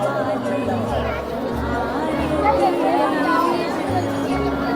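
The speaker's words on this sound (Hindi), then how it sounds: "भीड़ देखिए कितनी ज़्यादा भीड़ है भक्तों की यहाँ पर" A dense crowd of pilgrims murmurs steadily near the Ardhkuwari temple on the Vaishno Devi route in January snow, an even wash of overlapping voices and chatter with no single speaker standing out.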